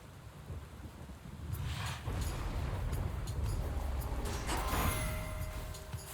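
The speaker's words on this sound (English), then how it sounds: "Raining again." Rain falls steadily in the video game Hades 2 while thunder rumbles low and distant, swelling into a louder crackling roll partway through, with no voices over the storm.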